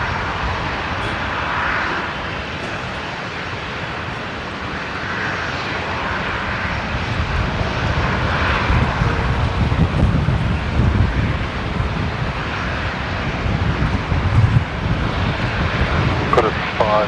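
Jet engine roar of a Velocity airliner lining up on the runway at Brisbane Airport for a Melbourne departure, a constant broad rumble swelling slightly louder midway, with wind buffeting the microphone.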